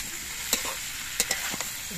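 Mango pieces frying on low heat in a pan for a sweet-sour pickle: a constant soft sizzle broken by a few sharp spatula scrapes and clacks, heard close with no voices.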